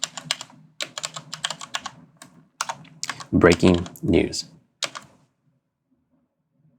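Rapid clicking of computer keys while text is typed into a text field in DaVinci Resolve 17 Fusion, the bursts of keystrokes coming in quick clusters, close and crisp, with a short stretch of speech partway through.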